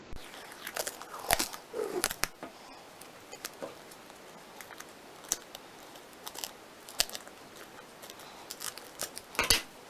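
Scissors cutting off extra duct tape on a DIY sensory gel pouch, a series of sharp close snips and crisp crinkly clicks scattered irregularly with quiet gaps between.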